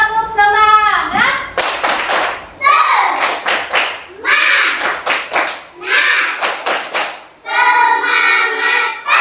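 Classroom children doing the rhythmic 'tepuk semangat' clap, loud bursts of patterned group clapping alternating with chanted children's voices and a teacher's voice, with sharp rhythmic slaps separated by brief pauses.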